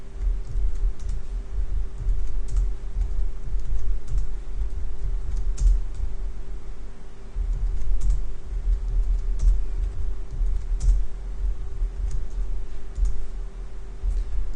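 Steady typing on a computer keyboard while code comments are deleted, a continuous patter of close keystroke clicks with a low steady hum behind them.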